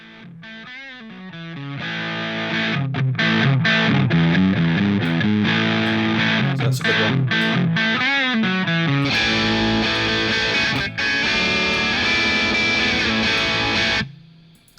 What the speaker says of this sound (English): Now this is what I expect a DS pedal to sound like.